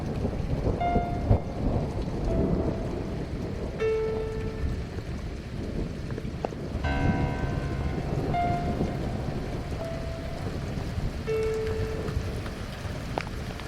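Steady rain and rumbling thunder from a storm in the horror video game The Cat Lady, a continuous wet wash with deep low rolls and occasional tonal game sounds layered on top, no voices.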